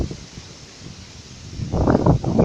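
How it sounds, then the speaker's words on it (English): Strong wind gusting through trees outdoors, a low rushing rumble that swells into a louder burst of leaf rustle near the end, with no voices. "it's very windy out here"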